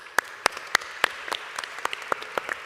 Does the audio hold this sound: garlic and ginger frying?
no